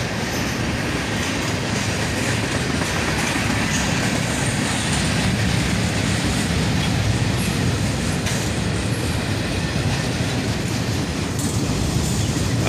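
A long northbound manifest freight train rolls past near downtown Dayton on a Saturday morning, giving a loud, steady rumble of cars with rhythmic clickety-clack of wheels over rail joints and faint wheel squeal, close by throughout.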